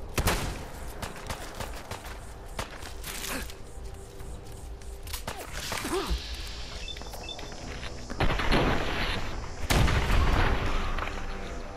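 Gunfire from the video game Fallout 4 crackles in scattered bursts and booms over a dense, noisy game soundscape, with sharper loud shots near the end.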